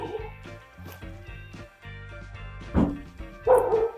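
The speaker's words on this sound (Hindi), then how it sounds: "डॉगी जो है जा रहे हैं उधर।" A dog gives a few short yips and barks among other outdoor sounds, moderately loud and fairly close, with brief gaps between the calls.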